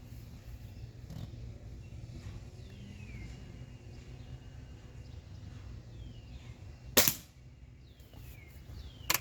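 A Diana 240 air rifle with open sights fires once at a 10-meter target, a single sharp close crack that dies off quickly, set against quiet background noise and faint distant chirps.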